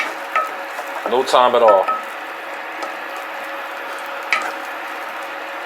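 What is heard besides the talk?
stirring vegetables sizzling in a pan on medium heat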